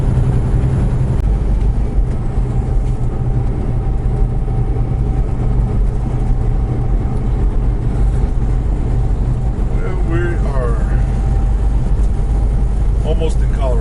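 A truck pulling a trailer cruises along a highway near Colorado, a steady, loud engine and road drone heard from inside the cab, with a few faint squeaky sounds near the end.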